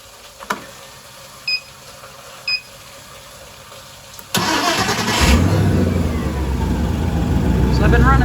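A car engine, fitted with a test hose feeding it fuel, cranks and catches with a sudden burst, then settles into a loud, steady close-up running roar after a few soft clicks.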